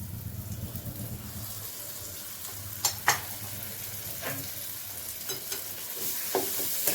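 Shrimp and fresh flat beans sizzle in a pan as spice paste is stirred in, giving a steady frying hiss broken by several sharp spatula scrapes and clicks.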